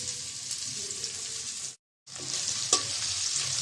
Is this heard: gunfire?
no